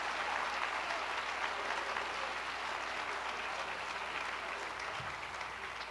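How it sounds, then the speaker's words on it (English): A room of people gives a steady round of applause at a medical center meeting, dense, even clapping heard at moderate distance that carries on throughout and eases slightly near the end. "They deserve a round of applause."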